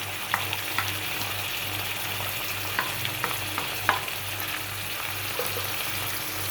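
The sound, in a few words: spices frying in oil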